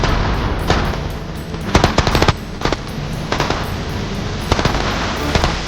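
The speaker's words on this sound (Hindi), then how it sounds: "फायरिंग स्टार्ट करो।" Loud, continuous gunfire in a comedy skit, rapid machine-gun-like bursts with sharp cracking shots layered over a constant noisy rumble, close and intense throughout.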